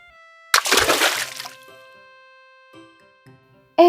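Water splashing in a river as a story sound effect: one loud burst of splashing and sloshing that fades into a few soft drips, with a narrating voice heard briefly at the end.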